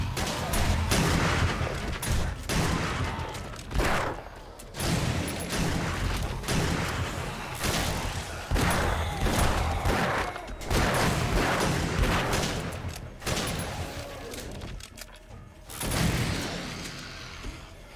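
Rapid bursts of shotgun fire in 7 Days to Die boom and crack almost continuously during a blood moon night, loud and dense, with brief pauses between volleys.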